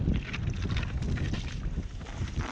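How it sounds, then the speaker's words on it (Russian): A west wind gusts steadily across a frozen lake during a winter ice-fishing trip for burbot, a loud, rough rumble buffeting the microphone throughout. "Блин, пока сидел, ветер поменялся."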